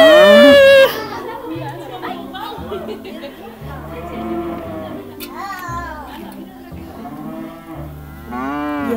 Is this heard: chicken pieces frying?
no